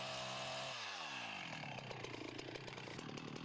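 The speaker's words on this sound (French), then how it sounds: "Si l'arbre n'est pas paré, il ne faut pas oublier de scier le côté de la charnière." Chainsaw sawing the hinge side of a hardwood tree during felling, a loud, nearby engine whine that drops in pitch as the chain bites into the wood and then grinds on steadily.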